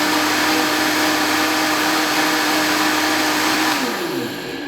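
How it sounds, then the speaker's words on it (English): An electric mixer blends cream for creme brulee with a steady, loud whirring drone that holds constant, then slows and winds down in the final second. "I'm going to go on top of the mixer. Make sure that's on securely."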